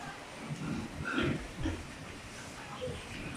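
Pigs on a piggery farm during the rainy season give a few soft, faint grunts over a steady background hiss.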